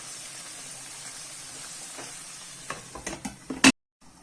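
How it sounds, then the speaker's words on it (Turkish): Tomatoes and green beans sauté under a lid in a pan, giving a low, steady sizzle. A few louder scrapes and clatters come near the end before sudden silence. "Domatesler de güzelce yumuşayıp suyunu salıncaya dek kapağı kapalı bir şekilde kavurmaya devam ediyorum"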